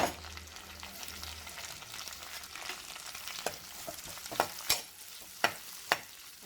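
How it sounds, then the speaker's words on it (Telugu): Curry leaves, onions and green chillies frying in a pan make a soft, continuous sizzle, with sharp spoon clicks against the pan growing more frequent near the end. "రెండు నిమిషాలు వేయించుకోవాలండి"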